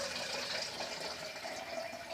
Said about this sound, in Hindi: इसमें हम और पानी भी ऐड करेंगे